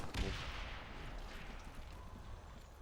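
A grenade launcher fires in a Black Ops zombies match: one sharp, loud launch thump near the start, followed by a rolling, rumbling explosive wash that fades slowly over the following seconds.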